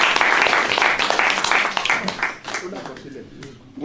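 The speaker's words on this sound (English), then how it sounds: "that deserves a hand of applause" A crowd applauds with dense clapping that gradually thins and fades, while a voice speaks underneath.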